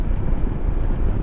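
Steady wind buffeting the microphone on a coastal road near Calbayog, Samar, a continuous low roaring rumble that fills the clip without pauses.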